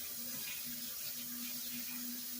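A kitchen tap runs steadily into a sink while something is washed up, a close, even rush of water with a low hum beneath it, lasting the whole short stretch without talk.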